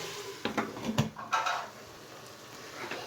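Lid set onto a cooking pot holding green beans, a few light metallic clinks and knocks close by, followed by a quiet kitchen.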